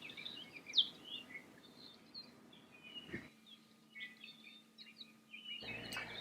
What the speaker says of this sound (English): You can hear the loud chip note that this bird is making